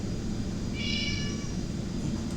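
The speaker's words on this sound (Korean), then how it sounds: "그래서 야옹 소리가 따로 있어요." A single cat meow, added as a sound effect during After Effects editing, rises clearly for about half a second over a steady low background hum, with no talking.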